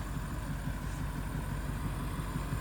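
A BMW F90 M5 Competition with a titanium straight-pipe exhaust and front intakes idles close by, a steady, dense low burble with a fast pulsing rumble and no talk over it.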